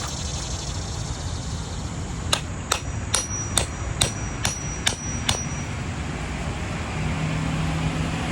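Wooden stakes are hammered into the ground on the outside of a concrete form: about eight sharp, evenly spaced blows ring out in a steady rhythm, moderately close, over a constant low background rumble with no one talking.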